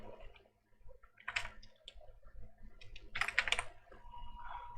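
Typing on a computer keyboard, with close, crisp key clicks coming in short irregular bursts and a denser flurry near the end, over faint room hum and no talk.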